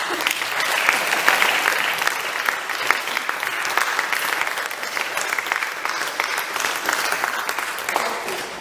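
Steady, dense applause from a recital audience for a young piano champion, sustained at an even level throughout with no break.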